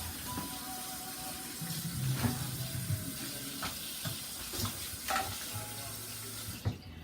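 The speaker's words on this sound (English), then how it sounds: "So I usually like wash it like this and dump the water, and then put another new water into it." Okra being washed in a bowl of water with the water then poured off: running, splashing water with a sink-like wash, occasional louder splashes and handling knocks, close, no talking.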